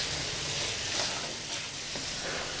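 Mutton fry sizzling in a pan as the masala dries out, a steady close hiss of frying with faint stirring scrapes throughout, no voices.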